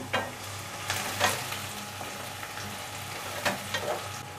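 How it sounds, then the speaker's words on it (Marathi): Onion, curry leaves and coriander sautéing in hot oil in a pan, a steady close sizzle broken by several sharp scrapes of stirring, with no talking. "आता ही फोडणी आहे ना ती चांगली परतून घेऊया।"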